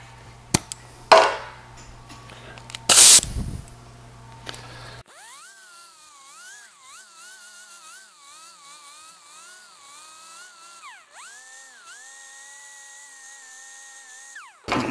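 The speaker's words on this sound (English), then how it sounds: "this has got the Harbor Freight little grinder I like a lot" A small Harbor Freight grinder fitted with a foam soft pad whines steadily at close range for about ten seconds, its pitch dipping briefly under load, after a few sharp knocks and clatter at the start.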